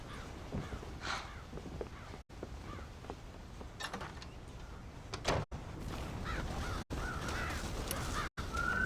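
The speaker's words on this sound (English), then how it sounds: "Damn crows!" Crows caw around a farm silo in the video game Red Dead Redemption, with scattered harsh calls at moderate distance under a constant rustling outdoor ambience, no speech.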